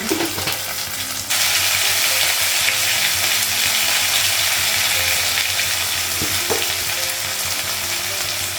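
Ginger paste hits hot oil in a pan at home. A loud frying sizzle bursts in after a quieter start and then holds steady, with a few utensil clinks and no talking.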